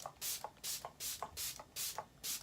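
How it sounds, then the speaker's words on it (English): Repeated short hissing bursts of MAC Fix Plus setting spray misted onto a face while applying summer makeup, about six quick pumps in a steady rhythm, close and fairly quiet, with no talking. "Now I'm just gonna spray my face with my MAC Fix Plus."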